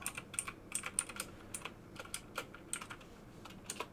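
Keystrokes on a computer keyboard as JavaScript code is typed, crisp close-up clicks in irregular quick runs with short gaps, fairly quiet and alone.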